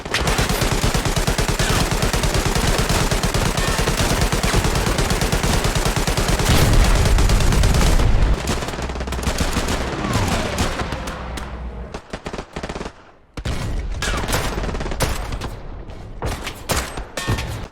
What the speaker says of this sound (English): All of the gunfire and explosions that you hear in the game are happening in real time.